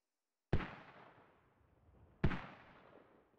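Two heavy artillery rounds fire in the video game Squad, each a sudden deep boom with a long rumbling tail, spaced about two seconds apart against otherwise quiet surroundings.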